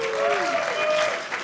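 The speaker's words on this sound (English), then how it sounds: "round of applause for just being ready like that" A crowd applauds at a lightning-talk event, brief clapping with a voice or a cheer sliding over it, fairly loud and close.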